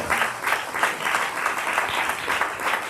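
Steady applause from a church congregation, dense clapping that holds at an even level throughout without pause.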